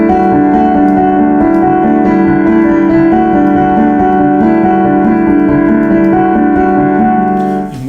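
Piano chords ring out with the damper pedal held down, so the notes blend into a sustained, overlapping wash of tones that stays loud and even throughout.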